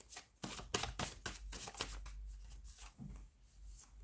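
Tarot cards being shuffled by hand: a run of quick, close riffling bursts, dense at first and thinning toward the end, with no talking.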